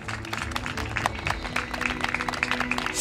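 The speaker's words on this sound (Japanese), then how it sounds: "手拍子のほどよろしくお願いいたします!" Audience clapping in rhythm at an outdoor festival dance performance, a steady run of claps mixed with crowd noise and music, moderately distant and fairly faint.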